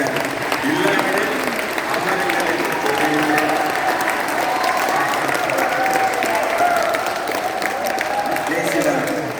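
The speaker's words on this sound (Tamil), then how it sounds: "சொற்களில் பேச்சு பிடித்திருந்தால் கைத்தட்டுங்கள்" An audience at an international conference on Thirukkural claps steadily and densely throughout, a sustained round of applause filling the room with some voices mixed in.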